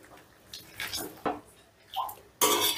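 Chilli fish being stirred in a pan with the gas turned off, giving a few soft, scattered scrapes and clinks of a spoon against metal along with faint wet sizzling, close by and fairly quiet.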